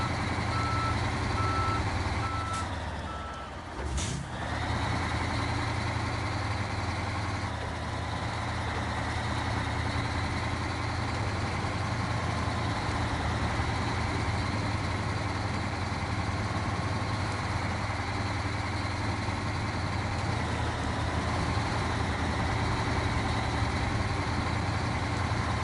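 In the Snowrunner game, the Chimera truck idles with a heavy low rumble while reversing beeps sound repeatedly and steadily throughout, and a brief clunk comes early on. No one speaks.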